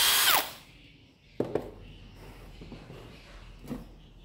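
A used Japanese cordless drill gives a brief loud whir that spins down within half a second, followed by a few sharp knocks and clicks against a quieter background.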